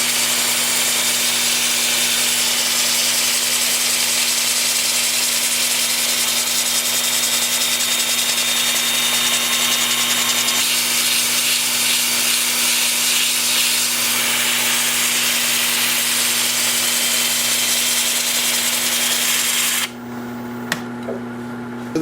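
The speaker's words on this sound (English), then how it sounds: "with the lathe spinning in reverse at about 320" Steady hum and whir of a wood lathe spinning in reverse at about 320, turning sassafras, with faint scraping of a tool against the spinning wood before it winds down near the end.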